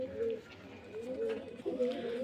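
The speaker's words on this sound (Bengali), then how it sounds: "পায়রা প্রচুর পায়রা আছে ঘরের মধ্যে" Pigeons coo nearby indoors in soft, throaty rolling calls, three drawn-out phrases in a row, with faint background noise.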